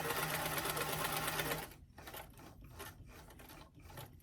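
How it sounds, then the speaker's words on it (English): A sewing machine runs a doll dress seam up from the hem toward a pin, a fast close mechanical buzz for about a second and a half, then it stops and soft fabric handling noises follow. "Starting at the hem edge, just go ahead and sew all the way up into that pin."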